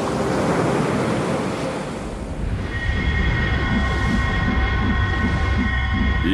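Ocean surf rolls and crashes in a steady, loud wash of broadband noise, with a faint sustained whine layered in partway through and no voices.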